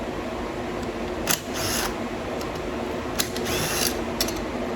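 Bolts being taken out of a recliner chair mechanism, brief clicking and ratcheting bursts from a hand tool repeated a few times up close over a steady background hum.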